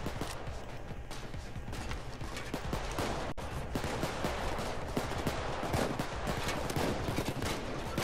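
Rapid gunfire and dense, overlapping shots crackle throughout a Payday 2 firefight, a continuous busy barrage of bangs and impacts.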